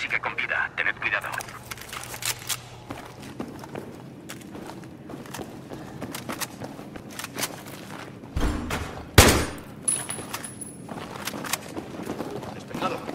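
Gunfire erupts in a Battlefield 3 firefight in which an enemy .50 caliber sniper is firing: scattered sharp shots and clatter among movement sounds, with one heavy, loud report standing out late, as soldiers talk and shout over it.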